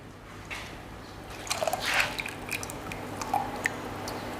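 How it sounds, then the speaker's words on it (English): Water drains off a freshly poached egg in a kitchen, giving soft dripping and light squishing with a few sharper wet ticks over a steady background hiss. "I'm just draining the excess water off because there is nothing worse than a poached egg with soggy toast"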